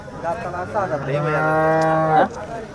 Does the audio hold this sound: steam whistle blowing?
no